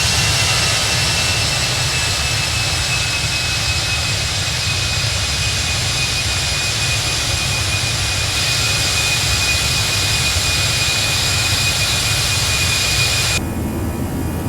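Jet engines of a ToLiss Airbus A319 in the X-Plane 11 simulator roar with a loud, continuous broadband rumble and a thin steady whine, unchanging for most of the stretch before the tone shifts abruptly near the end, and no one speaks.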